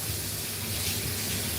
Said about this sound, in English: Need some tepid water.